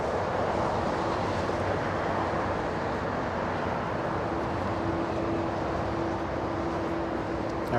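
A Qantas Boeing 787 arrives at LAX after a long-haul flight, its steady jet roar heard from a distance as a continuous broadband rumble with a faint whine.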